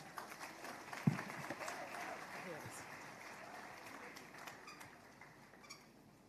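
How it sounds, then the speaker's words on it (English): An audience at an entrepreneurship talk applauds a speaker, a faint, diffuse patter of clapping with one sharp near clap early on, fading gradually over several seconds. "Please, a round of applause for her."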